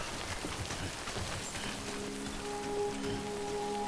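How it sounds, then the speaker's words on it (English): Steady rain pours down in the video game Death Stranding, a dense, even hiss filling the scene, with faint sustained tones rising beneath it partway through and no talking. "So we need to get out of the rain."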